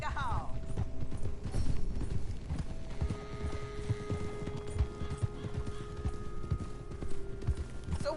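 Horse hooves pound in a steady galloping rhythm during a western video game race, close and continuous for the whole stretch, with a brief whinny near the start and game music and ambience underneath.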